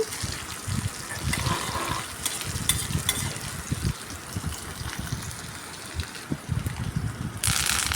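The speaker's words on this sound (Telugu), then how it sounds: "పోపు చక్కగా వేపుకోవాలండి నేను సిమ్లోనే పెట్టి వేపుతున్నాను సన్న మంట మీదే" Tempering spices sizzle and pop in hot oil over a low flame, a steady crackling hiss with soft stirring scrapes, close and continuous throughout.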